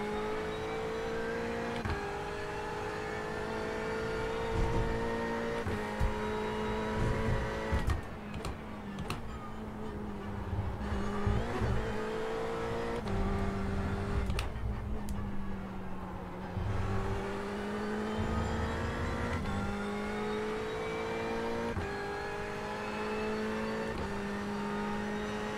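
Race cars in the iRacing sim, a Ferrari among them, whine steadily with engine pitch climbing and dropping through gear changes, a continuous loud drone with occasional rising revs over about twenty-five seconds.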